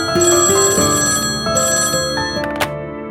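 A telephone rings in an indoor office scene from a Hindi television drama, a loud, close electronic ring with repeated tonal bursts and no voices over it.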